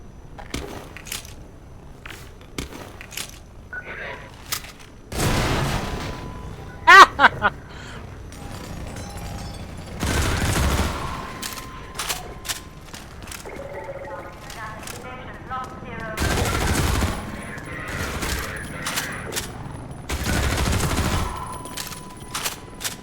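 Hunters firing in Half-Life 2 Episode 2, bursts of rapid gunfire and crashing impacts arriving in several loud clusters over a low rumble of game ambience, with short quieter gaps between volleys.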